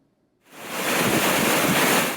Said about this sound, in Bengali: পটুয়াখালীর কুয়াকাটা সংলগ্ন বঙ্গোপসাগর বেশ উত্তাল হয়ে উঠেছে